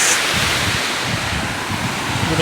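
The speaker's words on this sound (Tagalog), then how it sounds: "sobrang lakas ng alon" Loud, constant roar of heavy surf crashing nearby, with gusty wind buffeting the microphone throughout and no voices.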